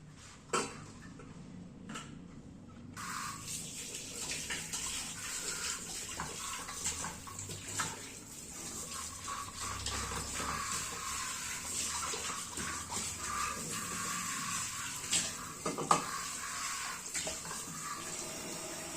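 Tap water runs steadily from a faucet while leafy greens are gently washed by hand, a continuous close splashing hiss with faint clinks of kitchenware and no talk.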